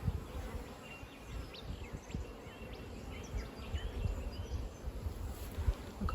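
Honeybees buzz around an open hive during an inspection, a steady low hum of many insects with individual bees zipping past close by, varying gently in loudness.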